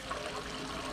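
Water draining steadily through a siphon out of an aquaponics grow bed, a continuous close rushing trickle with no pauses and no voices.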